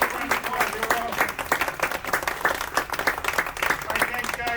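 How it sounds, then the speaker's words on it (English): A theatre audience claps and cheers in dense, steady applause at a magic show's grand opening night, filling the room evenly for several seconds with a few voices mixed in. "Give me a round of applause."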